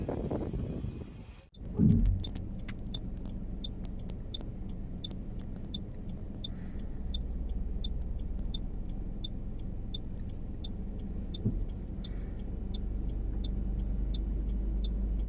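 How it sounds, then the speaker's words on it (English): A car reversing slowly into a parallel parking space beside a curb, heard as a soft, steady low engine rumble with a regular high chiming beep repeating throughout and a brief thump near the start. "Continue reversing, judging the clearance in front of you until your car is parallel and within 30 cm of the curb."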